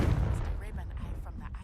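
Confringo blasting spell cast in Hogwarts Legacy on hard mode: a dense, heavy run of booming blasts and crackling impacts, loud and continuous for under two seconds.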